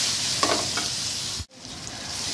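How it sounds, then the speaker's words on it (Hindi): Macaroni fries in oil in a pan with a steady, close sizzle broken by a few spoon-stirring scrapes and a brief dropout near the middle, with no one talking. "ये हमने इसको अच्छे तरीके से फ्राई कर लिया है"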